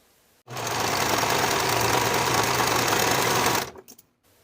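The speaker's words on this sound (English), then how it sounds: "I'm going to take the side seam to the serger and finish the raw edge" A serger runs in one continuous burst of about three seconds, finishing the raw edge of a side seam on a pajama bodice piece, then winds down with a few short stutters, close and loud.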